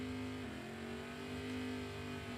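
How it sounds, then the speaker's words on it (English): Drag racing door cars rev loudly and steadily at the starting line, a dense, sustained engine roar with no talk over it. "The sweet sounds of door cars as Scotty Knight and Greg Sowards make their"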